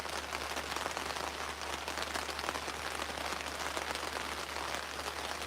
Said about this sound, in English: I don't know how loud the rain is.